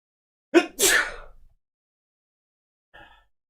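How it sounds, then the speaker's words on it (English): A single human sneeze bursts out nearby with a sharp inhale and explosive release, followed by silence and a faint short sound near the end. "I ended the recording for the YouTube video of this with that sneeze"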